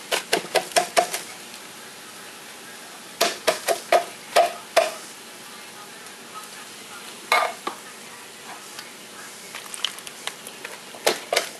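Cans of taco soup ingredients, juice and corn included, being emptied into a crock pot: clusters of sharp clinks, scrapes and wet plops in bursts with pauses between them, close and fairly loud, with no talking.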